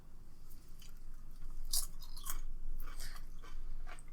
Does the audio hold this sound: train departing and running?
no